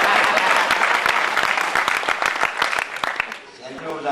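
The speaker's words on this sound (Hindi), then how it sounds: "इस बात पे भी ताली बजाओ भाई" A poetry recital audience breaks into loud, dense applause, many hands clapping at once before the sound thins and fades near the end as a voice begins to speak.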